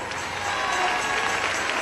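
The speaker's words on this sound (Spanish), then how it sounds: "Dale ese aplauso al Señor." Steady applause from a church congregation, dense and continuous throughout, with a roomy, sustained clapping texture.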